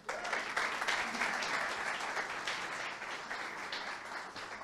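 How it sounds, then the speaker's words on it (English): An audience at a talk applauds together, dense steady clapping that starts at once and fades slightly as it goes on. "let's give a big round of applause for Marija"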